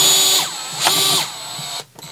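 A DEWALT 8V MAX cordless gyroscopic screwdriver drives a screw in two close whirring bursts of motor whine with a ratcheting edge, loud and near, then cuts off abruptly.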